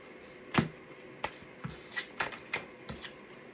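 Tarot cards being shuffled by hand in a string of crisp, separate riffles and slaps, about eight quick bursts at irregular intervals, close and fairly quiet, with no talk.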